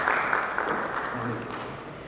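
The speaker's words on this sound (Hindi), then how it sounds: "के लिए जोरदार तालियां हो जाए" Audience applause fills a formal event hall as a guest is welcomed, a continuous, moderately loud wash of clapping with a voice speaking faintly underneath.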